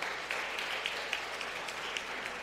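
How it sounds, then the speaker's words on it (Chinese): A church congregation at Sunday service claps to welcome a newcomer, a soft, steady patter of applause from a modest crowd, somewhat distant and even throughout. "我们欢迎他，拍手欢迎他"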